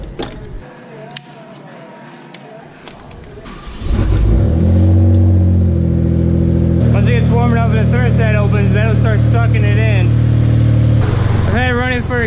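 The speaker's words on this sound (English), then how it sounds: "now you gotta start it and let the thermostat open up and the pump run" Mitsubishi 3000GT VR4 twin turbo engine starting and running up to a steady, loud idle with rev surges, heard close by from about four seconds in after a quieter stretch with light noises.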